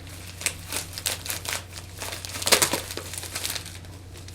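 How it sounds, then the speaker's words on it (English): A FedEx shipping bag is cut and ripped open, making a run of crinkly plastic tearing and rustling bursts that grow louder midway, with a brief voice heard once. "Can I rip it now? Yes. All right. With the FedEx bag."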